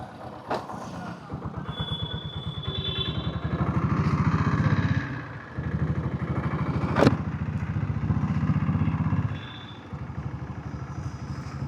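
A diesel Royal Enfield Bullet motorcycle, ridden just after an oil service, thumps steadily and close by, with short dips in the beat as gears shift smoothly.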